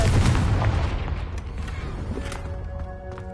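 A Confringo blasting spell in Hogwarts Legacy goes off with a loud, close boom, its heavy low rumble decaying over a few seconds into a fading tail.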